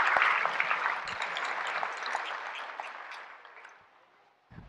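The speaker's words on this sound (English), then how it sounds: "I want to applaud all of you for doing that" An audience inside a mosque claps together, a dense burst of applause that starts loud and gradually thins and fades out over a few seconds.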